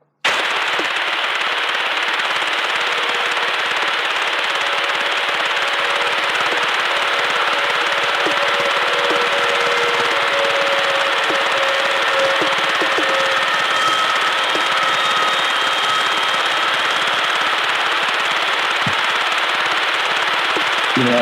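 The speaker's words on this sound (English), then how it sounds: "Eerie tone sweep." An eerie tone sweep plays back as a dense, continuous crackling noise with faint shifting tones drifting through it, loud and unbroken for the whole stretch.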